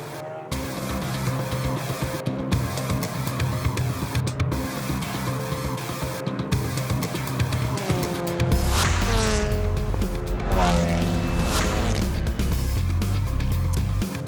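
TCR touring cars circulate behind the Hyundai safety car at The Bend Motorsport Park during a 2019 TCR Australia race. A steady engine drone runs throughout, and midway engine notes rise and fall sharply as cars pass close by.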